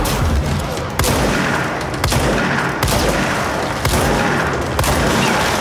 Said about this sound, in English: it must be the ricocheting bullets I'm hearing